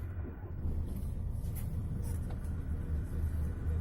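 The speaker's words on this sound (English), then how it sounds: "vehicle starts normally again" A Range Rover Evoque engine idling after immobiliser code entry, a low steady rumble with faint higher hiss above it, fairly quiet and continuous.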